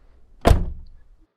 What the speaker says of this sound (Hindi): अंदर घुस के उसने दरवाजा लॉक किया।